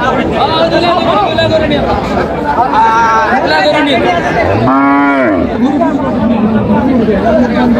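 A cow lets out one long, loud moo midway at a cattle market in Dinajpur, while people chatter and talk in the background throughout.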